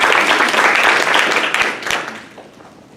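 A loud round of applause from the audience at a panel discussion on the drug war and surveillance, dense clapping that tapers off over about three seconds.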